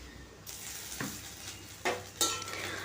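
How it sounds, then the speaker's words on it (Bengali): Panch phoron whole spices frying in hot oil give a soft, steady sizzle with a few sharper crackles and pops near the end, with no voices. "আমি তেলের মধ্যে পাঁচ ফোড়ন দিয়ে দিলাম"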